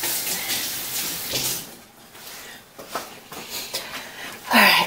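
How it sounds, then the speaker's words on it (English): Running tap water in a kitchen sink as a knife is rinsed after slicing potatoes for a potato salad, a hissing splashing stream that swells and fades with a sharper burst at the end. "Let me rinse my knife."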